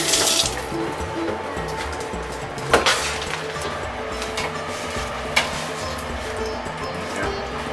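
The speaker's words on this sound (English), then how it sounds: "After resting, I started washing the dough to separate the starch." Steady running tap water in a sink as seitan dough is washed and squeezed to rinse out the starch, close and continuous, with a couple of brief clinks.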